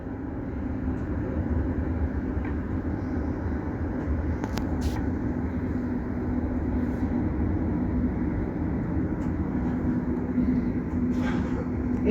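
A passenger train on the run from Gillingham to Holyhead rumbles steadily from inside the carriage, a constant low drone with faint rattles and no pauses.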